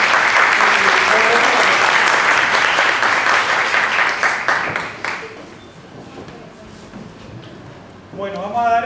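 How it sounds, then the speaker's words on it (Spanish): Loud, dense audience applause at a notarial forum honouring the invited speakers, sustained for several seconds before thinning out, with a voice briefly starting up at the end. "Así que les pido un fuerte aplauso."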